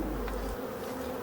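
Black honey bees of a local Breton strain buzzing inside a nearly empty hive, a dense continuous close hum with no voices.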